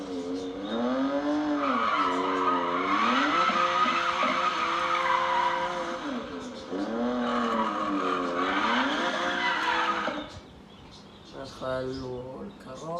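A BMW GTS revs hard and accelerates while its tires squeal loudly in two long, wavering skids, then the engine settles lower and revs briefly again near the end.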